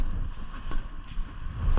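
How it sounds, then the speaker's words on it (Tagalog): Strong wind off the Pacific Ocean buffets the microphone in a steady low roar, with gusty surges and a faint wash of sea in the background, at Jomalig, Quezon. "Grabe yung hangin dyan oh yun ang gagaling Pacific Ocean oh."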